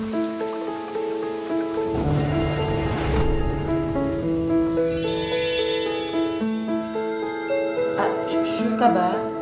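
Steady rain patters down beneath a layer of music, with brief louder bursts of spray and hiss rising and fading over the music.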